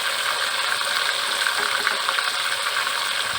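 Meat frying in a pan with ginger garlic paste gives a steady, bright sizzle that hisses evenly and closely for the full stretch, with no voices.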